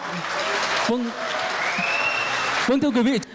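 Applause for a company chairman at a corporate group event in a five-star hotel in Bac Ninh, Vietnam, a broad clapping wash that fills most of the stretch before a voice begins talking near the end.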